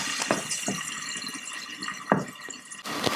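Water bubbles and spits steadily in a 1970s Sunbeam electric fry pan, a close hissing simmer with occasional louder pops as it bubbles out the sides.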